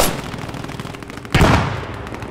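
Rapid bursts of machine gun fire rattle in a Squad 44 winter assault, with steady quick shots and a loud, sharp blast near the middle that decays into a lingering echo; no talking.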